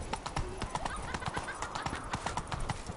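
Rapid hoofbeats of Roach, Geralt's horse in The Witcher 3, galloping in a brisk rhythm throughout, with a possible whinny and voices blended into the busy game audio.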